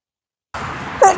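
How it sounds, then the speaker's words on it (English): A single short sneeze bursts out after half a second of silence, close and sharp. "I got like 6 more sneezes coming and I know it"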